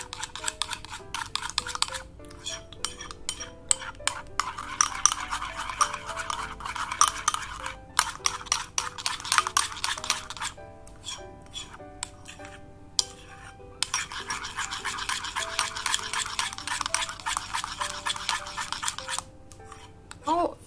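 Colgate toothpaste being stirred into slime, producing wet squelching, scraping and sticky clicking from the mixing, continuous and close, with brief pauses and faint background sounds.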